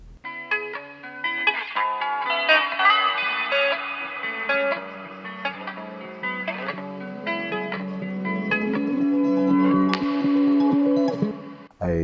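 Lo-fi guitar with its low end filtered out for a thin, radio-like tone, washed in shimmering crystalline reverb, plays a steady, moderately loud melodic line alone for about twelve seconds before cutting off.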